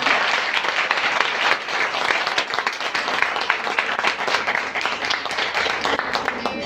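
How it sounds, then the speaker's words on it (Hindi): A ceremony audience applauds at the closing of a women empowerment project, dense, loud and sustained clapping filling the whole stretch without a break. "लेकिन आपदा के लिए खुल के तालियां जिसने ये प्रोजेक्ट बनाया।"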